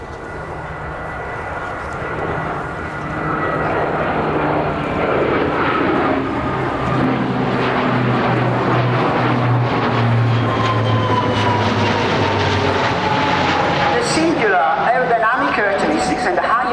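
An Italian Air Force C-27J Spartan twin-turboprop transport flies a display at an air show, its loud engine drone rising and filling the scene with a shifting pitch as it passes, while a commentator speaks over it.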